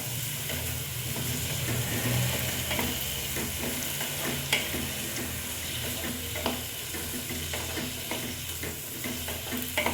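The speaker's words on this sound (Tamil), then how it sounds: "நெல்லிக்காய் எண்ணெயிலே வதங்கணும்" Indian gooseberries (amla) sautéing in a generous amount of oil, a steady close sizzle with scraping stirs and occasional clinks throughout.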